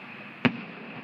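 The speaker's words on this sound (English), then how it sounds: "Now there's some fireworks" A single firework bursts at a distance over a steady background hiss, one sharp boom with a brief tail, from an evening display during a summer lakeside trip to Saugatuck, Michigan.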